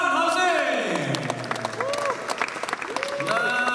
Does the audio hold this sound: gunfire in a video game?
no